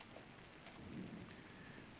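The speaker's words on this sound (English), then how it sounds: "Seems to be raining." Steady, faint rainfall from the video game Sim Airport hisses evenly throughout, with a soft low rumble in the background and no voices.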